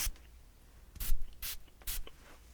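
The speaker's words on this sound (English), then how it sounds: "I'm gonna spray your edges one more time" Three short hissing bursts of hair spray on a wig's edges, close by, each a quick puff separated by brief pauses.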